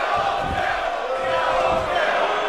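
A dense arena crowd in the WWE 2K18 wrestling video game roars and chants continuously at high volume during a Kevin Owens versus Sami Zayn match, a loud, sustained wall of cheering.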